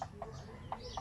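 Backyard chickens give several soft, short clucks at irregular intervals, faint and fairly close against a quiet outdoor background.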